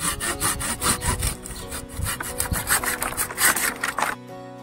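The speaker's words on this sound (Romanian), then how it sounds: "Apoi continuăm și tăiem din partea de sus pentru a nu se crăpa scoarța" Hand saw cutting through fig bush branches during pruning, a steady back-and-forth rasping of teeth on wood in close, repeated strokes that stop near the end.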